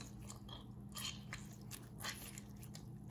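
A knife slicing through a lemon makes a few faint, crisp crunching cuts in quick succession, quiet and close, with no talk.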